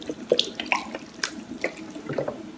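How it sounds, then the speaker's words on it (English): Broth poured into a pan of corn bread dressing, with short liquid splashes and trickling pours in a few bursts, close and fairly quiet, with no talk. "let's put some more broth in here"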